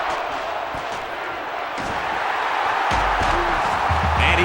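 Stadium crowd roaring in the NCAA Football 13 video game during a Mississippi State versus Purdue matchup, a steady loud wash of noise with a few thumps and louder swells near the end.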